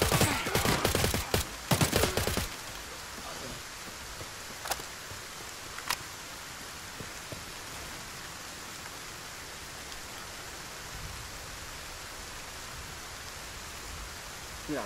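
Gunfire hitting the player in Arena Breakout: Infinite, a cluster of loud, rapid sharp cracks at the start, then a couple of isolated shots over a steady rain-like hiss.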